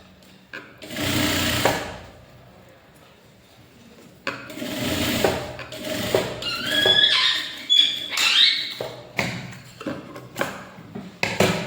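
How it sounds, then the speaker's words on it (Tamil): A sewing machine stitches thread piping onto cloth in loud, close bursts of rapid mechanical whirring, separated by brief pauses and handling noises. "நெட்டெல்லாம் போட்டு இப்போ நம்ம தச்சு பார்க்கலாம் ஒரு கிளாத் வச்சு"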